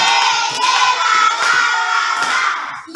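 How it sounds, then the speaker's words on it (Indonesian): A classroom of students claps together for a presenting group, a dense, steady burst of applause up close that fades out after a few seconds. "Beri tepuk tangan kelompok 4."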